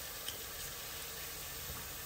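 Mutton keema with chili powder and green chilies fries in a pan, giving a quiet, even sizzling hiss throughout with only faint flickers of crackle.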